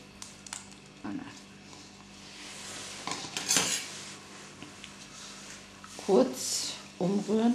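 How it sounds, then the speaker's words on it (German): Spoon stirring cake batter with eggs in a cup for a microwave mug cake, light clinks and scrapes against the cup, with a few louder knocks near the end and speech nearby. "Kurz umrühren"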